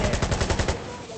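Rapid automatic gunfire in the video game Insurgency Sandstorm, a close burst of about eight sharp cracks in quick rhythm that then cuts off into a lingering echoing tail.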